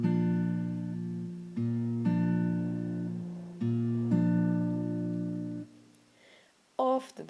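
Acoustic guitar playing the fingerpicked pattern of a song, a few ringing plucked chords in steady succession, close and clear, then a short pause before another brief strum near the end.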